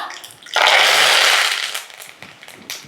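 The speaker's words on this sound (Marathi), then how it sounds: "मोहरी अशी तडतडली की जिरं जिरं बघा असं मस्त फुललं पाहिजे" Mustard seeds, cumin and curry leaves dropped into hot oil for a tempering give a loud, close burst of sizzling and crackling that swells and then settles into fainter spitting.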